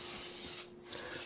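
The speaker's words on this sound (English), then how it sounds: "we're going to take our Baker's Joy, and we're just going to spray our" Baker's Joy baking spray hisses steadily onto cast iron skillets and a pie pan, a close, continuous aerosol spray with a brief dip partway through.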